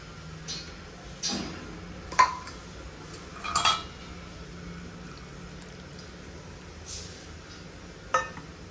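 A few sharp, faint clinks of a spoon scraping and tapping against a container as two-to-three-week-old milk cream is scooped in for making butter. The taps are spaced irregularly against a quiet background.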